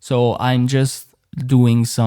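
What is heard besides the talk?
None of the usual background noises is heard.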